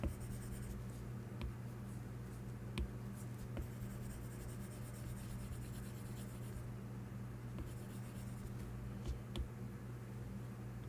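A stylus sketching on an iPad Pro screen in Procreate, a faint, soft scratching and rubbing of quick strokes over a low steady hum, with no talk.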